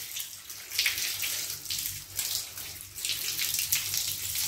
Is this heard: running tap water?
yes